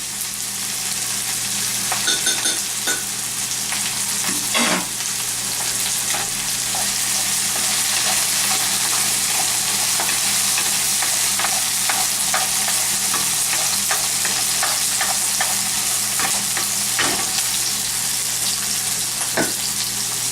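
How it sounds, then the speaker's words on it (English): Rice is stir-fried in a wok over high heat, a loud, continuous sizzle with repeated scraping and tossing strokes of the utensil against the metal throughout. "you just have to mix it well. When you're using a wok, cook in high heat."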